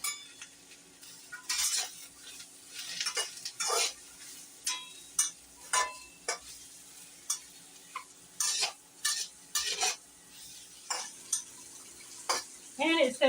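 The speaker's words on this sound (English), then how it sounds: "And it says to saute these until golden." Mushrooms and vegetables sauteing in a pan for egg foo yong, with soft sizzling under repeated close scrapes and taps of a utensil stirring against the pan in an irregular rhythm.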